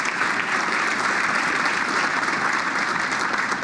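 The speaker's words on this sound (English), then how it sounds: "so clap out to that" Steady, dense audience clapping fills a village State of the Village address, an even wash of many hands at moderate loudness throughout with no break.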